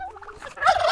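A homestead turkey gobbles once, a close, loud, rattling burst that rises sharply and trails off, heard alone against quiet morning surroundings.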